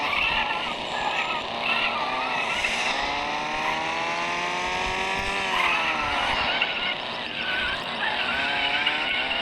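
Lamborghini skidding in a video game, a continuous loud tire squeal with rising and falling pitch sweeps over steady engine roar, sustained throughout with no distinct crash impact.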